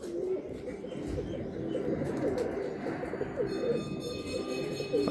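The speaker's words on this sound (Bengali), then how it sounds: "এটা নর পায়রাটা।" A male pigeon coos softly in a low, repeated rolling pattern, with other birds faintly around it and a thin high tone entering near the end.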